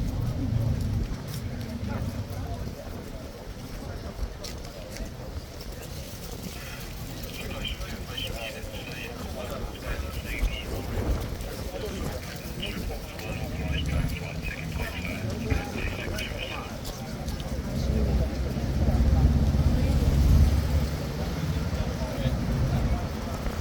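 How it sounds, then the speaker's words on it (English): Steady clip-clop of horse hooves on a hard surface runs throughout, with outdoor rumble, passing traffic and wind in the background. "This horse is clippy-clopping constantly."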